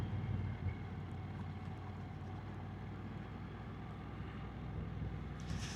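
A 2026 Honda NC750X 750cc motorcycle carrying two riders hums along steadily in second gear at about 20, a low, even engine drone mixed with road and wind noise.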